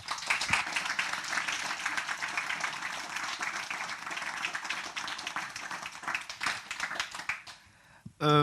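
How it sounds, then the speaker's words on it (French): Dense, steady applause from a conference audience rolls on for several seconds, then stops abruptly as a voice begins to speak. "Je crois qu'on peut les applaudir."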